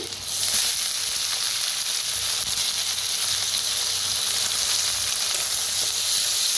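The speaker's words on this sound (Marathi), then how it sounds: "डाळ चांगली भाजून घ्यायची" Dal roasting in a pan with crushed chilli and garlic while making methi bhaji, a steady, dense sizzle and hiss that holds at an even level throughout, close and continuous with no talking.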